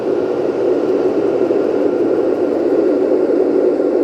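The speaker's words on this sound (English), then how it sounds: "It sounds like a white noise machine." A Snooz Breez smart fan hums steadily up close, producing an even, broadband whooshing like white noise with no change in level and no voices.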